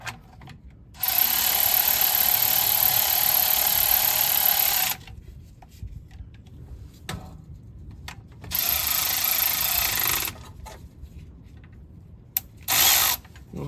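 Power ratchet driving bolts, whirring in bursts of about four seconds, then three seconds, then a brief final spurt, with quiet pauses between runs.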